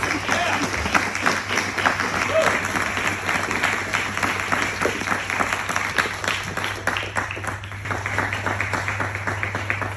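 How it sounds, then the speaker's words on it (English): An audience at a 101st Airborne Division leader development event gives sustained applause for soldiers who reenacted Thunder Run, dense clapping filling the room at an even level, with a steady low hum beneath. "please join me in a round of applause for our soldiers who reenacted Thunder Run"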